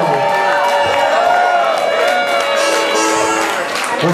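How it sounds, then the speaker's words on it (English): A live crowd at a Daddy Long Legs blues show at Colony Woodstock erupts in steady applause mixed with cheers and whoops, loud and continuous, with voices shouting through it. "Let's give Mr. Daddy Long Legs a round of applause."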